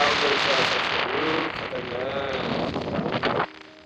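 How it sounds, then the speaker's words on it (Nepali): Strong, dangerous wind in Mustang buffets the microphone with loud, continuous roaring gusts, and a voice speaks over it before the gusts drop off abruptly near the end. "खतरनाक हावा आउँदो रहेछ"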